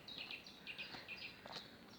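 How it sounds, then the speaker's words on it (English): A chiffchaff sings faintly in the background of a peaceful woodland walk, its thin repeated chirping notes rising over a steady soft ambient hiss, with no one talking. "In the background you can hear a chiff-chaff"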